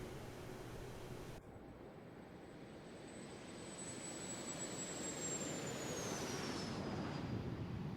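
A Cessna C152 engine in a flight simulator game gives off a steady, moderate drone, with a high thin whine that holds and then slowly drops in pitch.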